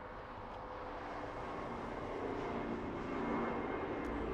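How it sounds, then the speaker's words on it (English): A Lufthansa airliner lands at LAX, heard as a faint, distant broadband jet roar that swells slightly and holds steady throughout, with no voices. "Lufthansa 456, today landing 20 minutes late."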